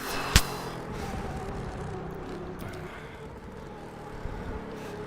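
A racing super truck's engine drones steadily in the Automobilista sim, a continuous mid-level roar with a brief sharp knock near the start and another faint bump toward the end.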